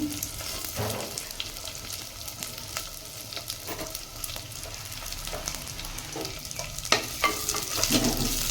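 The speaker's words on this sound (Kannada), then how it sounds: "ಇದೆಲ್ಲ ನೀಟಾಗಿ ಫ್ರೈ ಆಗಲಿ" Two large chopped onions fry in a pan for a home-style tempering, with a steady close sizzle broken by scraping stirs that grow louder near the end.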